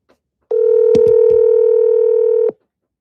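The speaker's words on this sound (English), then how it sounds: "And phone is ringing." A single steady electronic telephone tone sounds during a call, holding evenly for about two seconds before cutting off, with a couple of faint clicks near the start.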